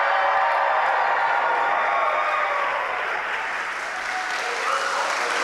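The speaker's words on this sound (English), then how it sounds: "can we get a cheer from you guys sat here?" A live audience at a horror game awards show bursts into sustained applause and cheering, dense and loud from start to finish before easing slightly.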